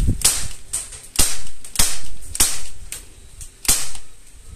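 An airsoft gun fires at a squirrel hanging on a backyard clothesline, giving six sharp, loud snapping shots spaced roughly half a second to a second apart, with no talking between them.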